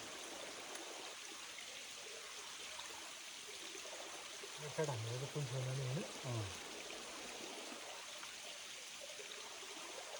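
A forest stream flows quietly and continuously in the background while a person talks briefly partway through.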